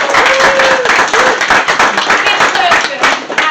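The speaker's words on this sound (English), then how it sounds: "So big round of applause." Clapping from an audience at a live performance event, dense and steady for a few seconds with voices and a few cheers mixed in.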